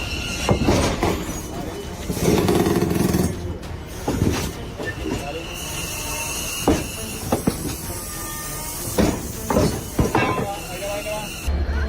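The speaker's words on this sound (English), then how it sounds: "The approaching train was moving with so much force" A train rushes past at speed, loud rumbling and hissing rail noise with squealing wheels and fluttering bursts, steady and close throughout, with a voice talking over it.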